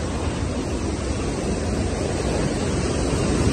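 Hidden waterfall near Dumar village in Munsiyari, Uttarakhand, a loud, dense and unbroken roar of falling water up close, slightly swelling toward the end, with no speech.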